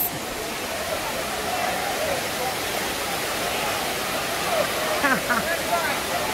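Constant roar of falling water at Dunn's River Falls, Ocho Rios, Jamaica, even and unbroken like a waterfall nearby, with faint higher tones flickering briefly near the end.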